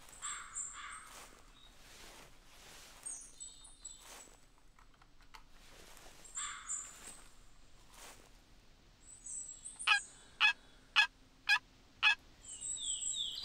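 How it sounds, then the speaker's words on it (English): A turkey hen calls in a hunting game, giving soft clucks and yelps, then a rapid series of five sharp, evenly spaced yelps near the end, heard alone against a quiet background. "Call from a hen and female bobcat that's like right on top of us."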